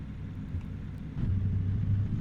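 A low engine rumble of a truck in a driving video game grows heavier partway through, a steady deep drone like a big truck revving up, with no talking.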